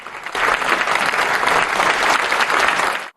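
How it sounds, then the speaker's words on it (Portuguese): British MPs in the House of Commons give a standing ovation, a dense, steady wash of clapping that fills the chamber for about three seconds before cutting off abruptly. "Os deputados britânicos aplaudiram de pé."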